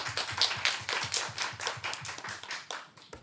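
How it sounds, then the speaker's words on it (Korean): A church youth congregation claps in encouragement for students facing exams, a small group's quick, fairly even claps in a loose rhythm, soft and close-sounding, without talk over it. "그 다음 주에 시험 치는 사람도 이번 주에 열심히 공부하라고 또 격려의 박수."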